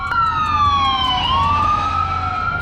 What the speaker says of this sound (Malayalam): ആംബുലൻസ് പോകുന്നുണ്ടോ?